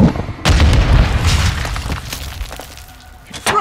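A grenade detonates in Call of Duty: Modern Warfare II, a loud deep boom with a rumbling, debris-filled tail that fades over a few seconds before another sharp impact near the end.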